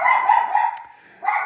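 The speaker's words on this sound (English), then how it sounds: "Sorry, that's the dogs." Dogs barking nearby in short bursts, the barks strong at the start and returning after a brief lull, with no one speaking over them.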